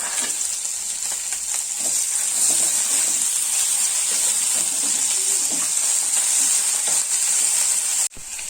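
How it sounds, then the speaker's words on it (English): Garlic and tomato, with curry leaves, fry in a hot pan with a steady, bright sizzle that holds evenly throughout, close and fairly loud, and a short dip near the end. "garlic and tomato. Let us fry these."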